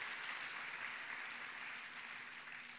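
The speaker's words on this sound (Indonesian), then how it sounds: "Tepuk tangannya boleh yang paling meriah buat Tuhan kita yang luar biasa" A church congregation claps for God during a Good Friday service, a steady, broad wash of applause held at even strength across the whole stretch, fading slightly toward the end.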